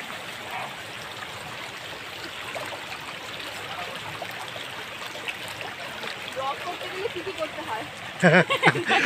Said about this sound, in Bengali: জলের শব্দ কিন্তু এখান থেকে পাওয়া যাচ্ছে